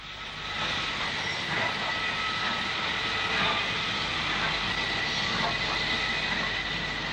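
A steam locomotive, CD3 of the Carriage Department, hauls its sister engines out of the shed, making a steady, loud, broadband rumble and clatter that runs unbroken throughout with no voices.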